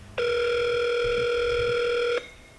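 A telephone ringing tone sounds once while a call is placed to a car dealer about a GV60, a single steady electronic tone lasting about two seconds, clear and alone.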